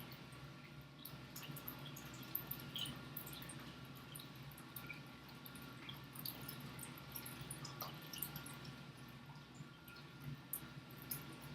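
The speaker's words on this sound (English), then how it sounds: "You can notice how the water is draining out through the decal." Water drains through a papermaking deckle into a pan, giving a faint, steady trickle with scattered small drips, alone and close.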